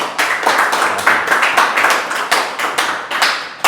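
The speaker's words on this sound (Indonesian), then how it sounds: "Oke, kita beri tepuk tangan dulu buat Mas Andi." Clapping from a small audience after a Python back-end development project presentation, close and crisp, with uneven overlapping claps in quick bursts and no talk over it.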